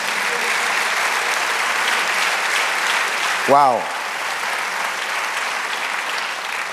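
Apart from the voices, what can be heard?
congregation applause in church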